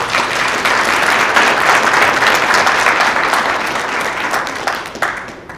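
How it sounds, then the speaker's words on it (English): Loud, sustained applause from a gala audience at a youth empowerment event honoring the foundation's chair emeritus, a thick wash of clapping that swells early and tapers off toward the end. "Please give her a round of applause"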